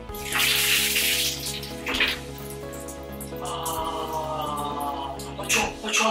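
Water runs and splashes in a home bathroom during a shower, with a rushing stream that pauses briefly, then resumes with shifting splashes and drips, close by and moderately loud.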